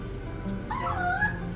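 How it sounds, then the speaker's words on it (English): A mini Australian Shepherd puppy, eight weeks old, whimpers and gives short high yips and a bark, close by and moderately loud against a low room hum. "Oh, you got a big boy bark."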